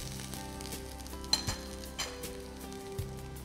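Ingredients frying in a pan for pomegranate rice, a continuous close sizzle with occasional light clinks and stirring taps of a utensil against the pan, no talking.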